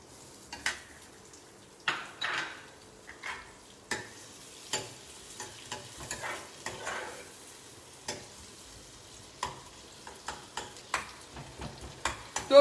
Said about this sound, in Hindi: बटर में हमने डाला थोड़ा चॉप गार्लिक,